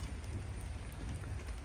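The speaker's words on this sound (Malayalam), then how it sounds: "പുറത്ത് മഴ ഇങ്ങനെ പൊടിയുന്നുണ്ട്." Light drizzle falling outdoors, a faint, steady, soft hiss of fine raindrops with no distinct drops standing out and no voices.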